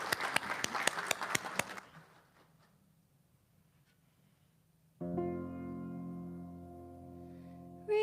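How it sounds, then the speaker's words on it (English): A church congregation gives brief applause for singer Rebecca Deese. The clapping lasts under two seconds and is followed by near silence, and then sustained musical accompaniment begins. "Let's give her a rounding rouse of applause."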